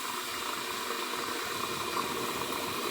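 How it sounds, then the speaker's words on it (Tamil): Boiling water poured onto roasted semolina in a pan on the stove, making a steady, close bubbling hiss and sizzle with no voices. "ரவை வறுத்துட்டு நம்ம தண்ணி ஊற்றும் போது கொஞ்சம் டக்குன்னு வெந்துடும்"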